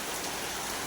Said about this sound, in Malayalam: ഇവിടെ 2-3 ദിവസമായിട്ട് നല്ല രീതിയിൽ മഴ വരുന്നുണ്ട്